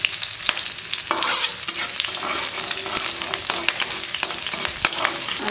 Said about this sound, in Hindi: अच्छे से इसको भूनेंगे।